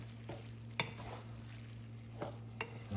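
Bacon spaghetti with fresh basil being stirred in a pan, quiet scraping and a few sharp utensil clicks over a faint sizzle and a steady low hum.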